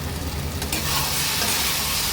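A thick lentil mixture is stirred and scraped in a hot pan as it starts sticking to the bottom, a bright steady sizzle over rhythmic scraping, close and loud with no talking.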